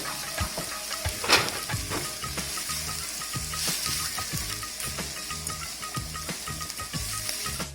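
Onions fry with a pinch of salt in a pan, giving a steady, moderately loud sizzle with rhythmic scraping and clinking as a utensil stirs them.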